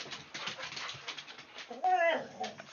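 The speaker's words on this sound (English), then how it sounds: "The dogs are so loud behind me." Dogs whimper and pant in the background behind a person talking, with a sharp rising whine standing out briefly near the end.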